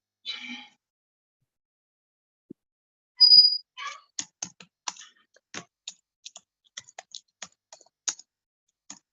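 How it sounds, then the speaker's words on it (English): Someone types on a computer keyboard during an online meeting, a scatter of sharp, separate key clicks at an uneven pace, fairly close and alone, after a brief bit of distant noise. "Somebody is typing and it's very disturbing."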